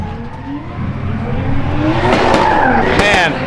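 Drift car in a burnout box at an LZ World Tour event, engine running hot with high water temperature, roaring steadily as tire squeal and skidding build toward the end, loud and close with crowd noise underneath.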